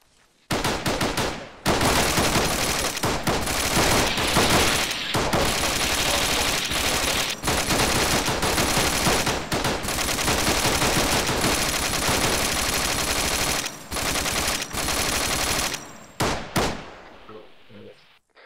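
Sustained, loud automatic gunfire and rapid rifle shots during an immediate assault fire-and-movement drill, bursts overlapping almost continuously for about fifteen seconds with only brief gaps, then tapering off into a few last shots.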